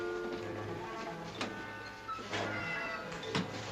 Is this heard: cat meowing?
yes